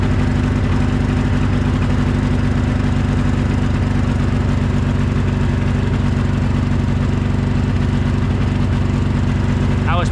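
Small engine running at a steady idle, a loud, even mechanical drone with a constant pulsing beat and no clear change in pitch while the choke and throttle are worked.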